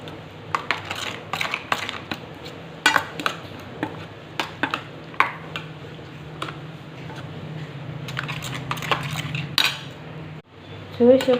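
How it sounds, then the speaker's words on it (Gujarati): A spoon clinks and scrapes against a bowl while yogurt raita with mustard is stirred, giving quick uneven metallic taps and rattles, close and fairly loud, with no voice. "રાયતામાં રાઈને એડ કરીશું હવે આને સારી રીતે મિક્સ કરી લેવાનું છે"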